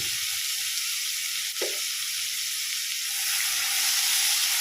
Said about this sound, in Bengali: একটা বড় সাইজের টমেটো কেটে রেখেছিলাম, দিয়ে দিচ্ছি টমেটোটা